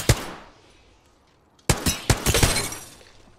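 Gunfire in the shooter Apex Legends: a single sharp shot, a pause, then a rapid run of loud cracking shots close by.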